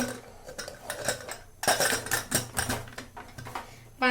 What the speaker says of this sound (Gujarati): આવી રીતે ઢાંકણું બંધ કરીને